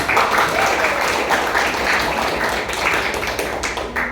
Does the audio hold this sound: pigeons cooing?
no